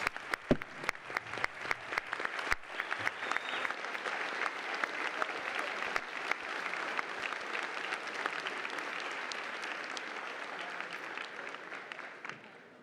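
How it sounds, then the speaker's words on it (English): A conference audience claps steadily and warmly for panelists for about twelve seconds, a dense wash of hand claps that fades slightly at the end. "Round of applause for our panelists."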